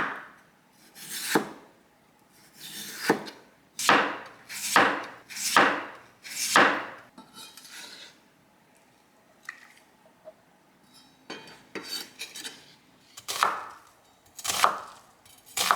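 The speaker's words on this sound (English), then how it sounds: "we're going to stick to the slicing method using our knives" A knife thinly slices potatoes on a cutting board, giving close, crisp chopping strokes in uneven bursts of several cuts with brief pauses and no talking.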